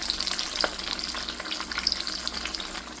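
Chicken empanadas deep frying in hot oil, a few at a time, giving a steady close-up crackling sizzle with dense popping bubbles and no talking.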